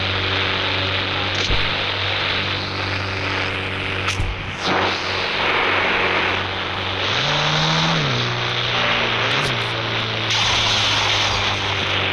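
A steady engine drone runs throughout, rising briefly in pitch as it revs, with thin electronic game effects on top: a taxi driving in the video game Indian Bike Driving 3D.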